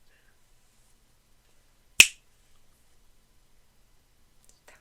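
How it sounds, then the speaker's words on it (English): A single sharp, close finger snap rings out during a quiet hypnosis session, with near silence before and after. "When I snap my fingers, you're going to wake up."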